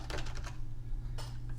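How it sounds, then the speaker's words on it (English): Keys clatter on a computer keyboard while a chart name is entered in a spreadsheet: two short, quiet bursts of rapid clicking separated by a brief pause, with no talking. "and we're typing in combo chart"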